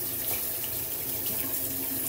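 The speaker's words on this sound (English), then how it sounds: "rinsing off. Cold water." Cold tap water running steadily to rinse soap off, a constant hissing splash at close range with no talking.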